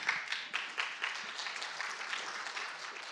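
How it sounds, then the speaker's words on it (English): A hackathon presentation audience claps in a soft, brief burst, with scattered overlapping claps that stay moderate and fairly even throughout. "So, give me a round of applause, guys."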